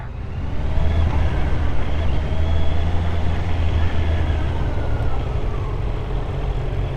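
A 2025 Honda CB650R with E-Clutch pulls away from a stop, its engine a low steady rumble that swells slightly as it rolls off and settles into a continuous drone without any voice over it.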